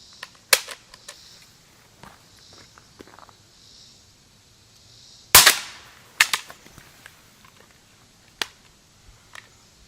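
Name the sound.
surplus CSA vz. 58 rifle magazine dropped in drop test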